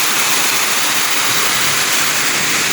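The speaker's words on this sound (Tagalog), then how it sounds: "Ito yung Dapingan Falls dito sa aming barangay." Dapingan Falls, a small village waterfall with weak flow, gives a steady broadband rush of falling water, close and continuous with no voices.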